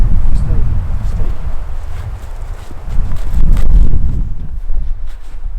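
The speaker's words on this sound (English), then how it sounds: "Hopefully the wind's not too bad on the audio, but it is pretty windy." Wind blowing steadily outdoors as the sun goes down, a continuous low buffeting rumble that swells and eases in strength throughout.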